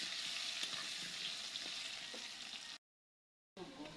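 Potatoes coated with turmeric and salt sizzle loudly as they fry in a pan, a dense steady crackle that breaks off into a short silence before resuming.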